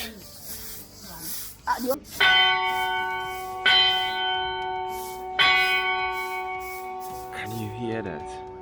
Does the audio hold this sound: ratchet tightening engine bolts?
no